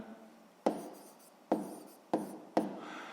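A sixth-grade math answer being written out by hand, heard as four crisp stroke attacks with scratchy decaying tails at uneven intervals, near and soft against a quiet background.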